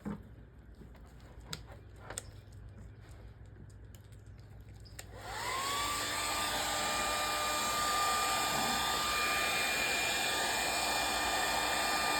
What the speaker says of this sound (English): if you want to get the job done faster, use a hair dryer